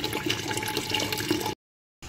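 Tap water runs steadily into a pot for cooking rice in a home kitchen, a close, loud continuous splashing gush that stops abruptly near the end.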